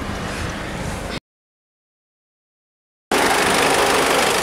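A Honda Jazz with a 1.5-litre i-DTEC Earth Dreams diesel engine idles with a steady, close, rough rumble, broken by a silent gap of about two seconds in the middle.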